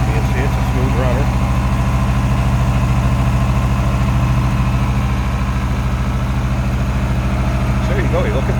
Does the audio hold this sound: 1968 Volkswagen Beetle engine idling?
yes